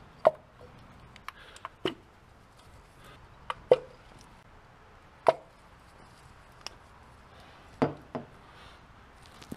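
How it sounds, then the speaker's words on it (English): Ignition coil packs are pulled off the spark plugs of a Mazdaspeed, heard as a series of sharp clicks and soft plastic pops scattered across a quiet background, close by with no talk. "Now I'll just pull the coil packs off the spark plugs."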